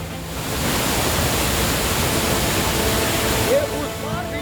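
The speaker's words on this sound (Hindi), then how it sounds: "ऊपर से पानी की तेज धार सीढ़ियों से होती हुई नीचे की तरफ आई।" Monsoon floodwater in Uttar Pradesh gushes down an ashram's stairs as a loud, continuous broadband roar, like a rushing stream, holding steady before easing slightly at the end.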